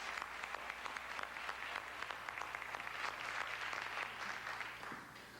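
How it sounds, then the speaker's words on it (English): Audience applause in a city council chamber at a hall of fame induction ceremony, sustained even clapping from many hands at a moderate distance, tapering off at the end. "let's have a round of applause for these Northland Vikings that came up here to entertain us today"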